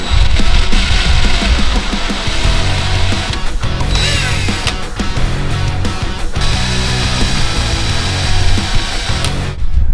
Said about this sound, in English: we're about to drill the hole